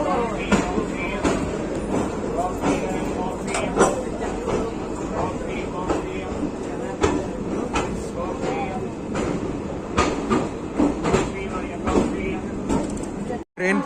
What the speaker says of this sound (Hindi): ट्रेन पहुंच चुकी है गाजियाबाद जंक्शन।